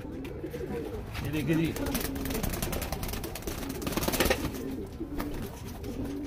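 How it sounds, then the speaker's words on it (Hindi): Pigeons coo steadily in a loft where young pigeons for sale are shown, with someone talking over the birds throughout. "बैठक साइज़ देखिए कबूतरों का"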